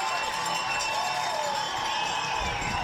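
Football crowd at a 2019 six-man Division III state championship game cheers after a Heritage touchdown, a steady, dense roar of many voices that holds at an even, loud level throughout.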